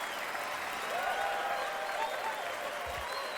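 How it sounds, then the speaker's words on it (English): Sustained applause from a late-night show audience, a dense, steady wash of many hands clapping at fairly constant loudness throughout, with faint crowd murmur mixed in. "The audience is exploding in claps."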